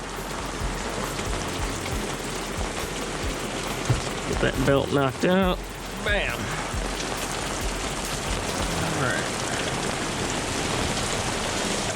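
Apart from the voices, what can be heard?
rain falling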